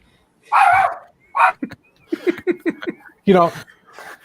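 A dog barks and yips several times close by, in uneven bursts with some whimpery tones, and people talk nearby.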